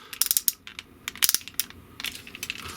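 The waist swivel joint of a Fans Toys Lupus Transformers figure ratchets as it turns, giving rapid bursts of crisp plastic clicks in uneven clusters, close and clear with no talk.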